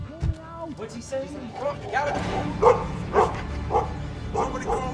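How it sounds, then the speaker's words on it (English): Several dogs bark in short, repeated bursts at a prison during the American Civil War, fairly close and loud, with a voice talking over and between the barks. "Somebody calm these damn dogs down. What the hell are they barking at?"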